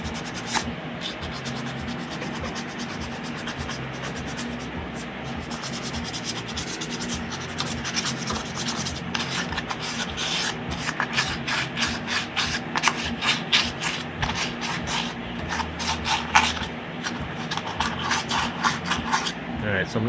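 Hand sanding the tight spots of an alloy wheel being prepped for repainting, a steady close scratchy rubbing in quick repeated strokes lasting throughout.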